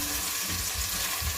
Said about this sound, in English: And then I'm going to add 1 clove of garlic. And then just saute it.